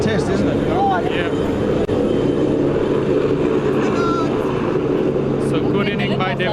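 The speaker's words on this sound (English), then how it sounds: "The helicopter is just part of a landing exercise." A helicopter on a landing exercise near a cricket match sends a loud, steady, broadband rotor and engine rumble through the whole stretch, with people talking over it.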